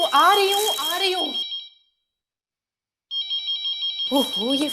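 An electronic phone ringtone trills in repeated bursts, loud and close, with someone talking before it starts and again as it keeps ringing.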